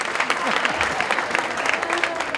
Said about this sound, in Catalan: Fora aquest aplaudiment, clar que sí, merescudíssim